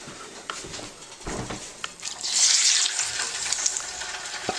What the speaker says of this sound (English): that happy fish frying sound